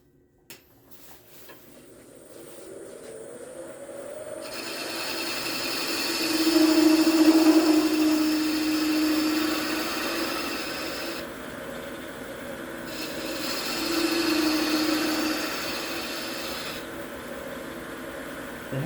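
Wood turning on a lathe with a round carbide tool: a steady motor hum with a rising rasping, scraping cut that swells in the middle and again near the end, continuous with no talking.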